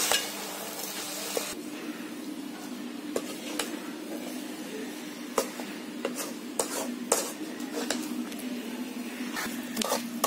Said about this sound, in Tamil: இது நல்லா அடி பிடிக்காம நல்லா கிளறிங்க.